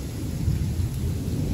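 Steady rain falling outdoors, a dense, continuous wash of noise that stays loud and even throughout, with no talking.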